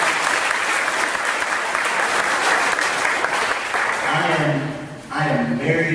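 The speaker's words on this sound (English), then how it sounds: "Give him a round of applause." Loud, sustained applause from an audience at a 2013 fall kickoff event fills the room steadily. Near the end it dips briefly before a voice starts speaking over the last of the clapping.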